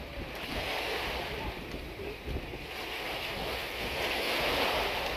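Rough ocean surf at a beach in the Philippines roars as a steady, continuous wash of breaking waves, with wind buffeting the microphone throughout and no talking.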